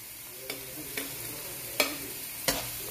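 Garlic sautés in a pan for stir-fried bitter melon and sponge gourd, a soft steady sizzle broken by four distinct scraping stirs spaced about half a second apart.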